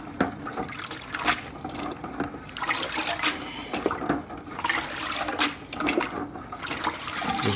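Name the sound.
rinsing filter media in tank water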